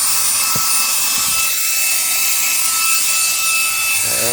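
A Reikiya mini handheld cordless vacuum cleaner running, a loud steady high-pitched motor whine with airy rush, close and continuous, with a few faint knocks of debris.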